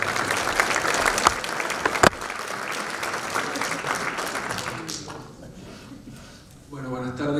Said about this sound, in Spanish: Lo recibimos también con un fuerte aplauso.